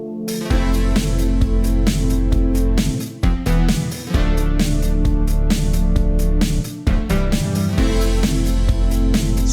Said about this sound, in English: All in all, it sounds like this for the instruments.